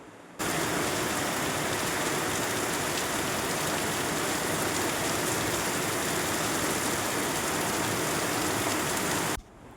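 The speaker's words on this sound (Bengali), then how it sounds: "বাইরে কেমন মুষলধারে বৃষ্টি পড়ছে" A heavy monsoon downpour outside, a dense, even roar of rain hitting surfaces that starts abruptly, holds steady and loud for about nine seconds, then cuts off.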